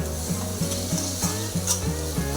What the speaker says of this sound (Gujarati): વ્યવસ્થિત મિક્સ કરી લેવાની